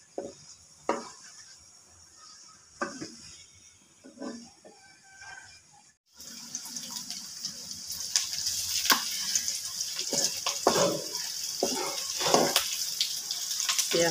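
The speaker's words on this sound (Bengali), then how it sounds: "তার জন্য আমি শুকনো মরিচটা ভেজে নিচ্ছি।" Dried red chilies fry in oil for a shrimp shutki bharta, with scattered clinks and stirring scrapes giving way to a steady, close hiss of sizzling oil that runs to the end.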